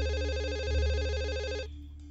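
An electronic telephone ring from an adventure game, a loud warbling buzzy tone over a low musical drone that cuts off near the end.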